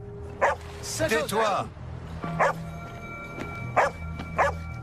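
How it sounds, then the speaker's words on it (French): A dog barks in sharp, close bursts spaced a second or so apart, with whining yips in between, while a person speaks over it. "Il aboyait comme s'il se sentait menacé."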